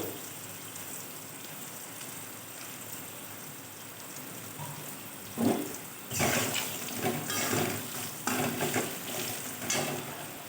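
Chili powder fries in a pan for a hilsa curry, a steady close sizzle that grows louder and busier as it is stirred, with scraping strokes in the second half and no talking.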